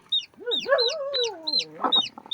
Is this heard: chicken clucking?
yes